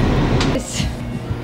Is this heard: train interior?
yes